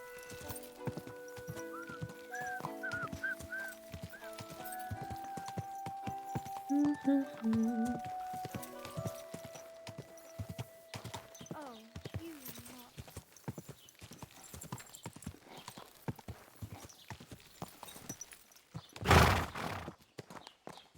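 A horse in the video game Kingdom Come: Deliverance 2 clip-clops steadily along, hooves knocking in a quick even rhythm under a music score, with a loud thump near the end.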